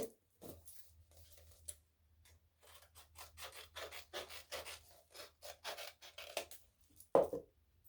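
Scissors trim the yarn on a DIY Dollar Tree yarn Christmas tree cone, making a quiet, close run of soft rasping snips that repeat irregularly, ending with a sharper louder snip.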